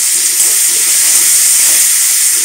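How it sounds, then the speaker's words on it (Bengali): Chopped onion with a spoonful of salt fries in a pan for turul dal, giving a loud, steady, unbroken sizzling hiss throughout with no talking. "এবারে এটাকে একটু ভাজা ভাজা করে নিই,"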